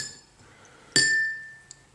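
A teaspoon strikes a glass of warm water while stirring in baking soda, giving one bright ringing clink that fades slowly, then a faint second tap, otherwise quiet.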